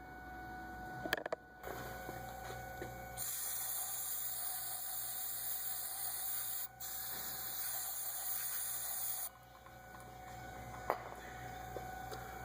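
An aerosol cleaner hisses in long, loud bursts onto the rear brake caliper of a 1999 Ford Explorer, with short pauses between sprays and a few light metallic clicks.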